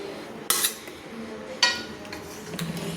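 Fish curry with drumsticks ladled from a wok into a serving bowl: two sharp metallic clinks of ladle on metal about a second apart, then softer scraping and a faint splash, close and fairly quiet.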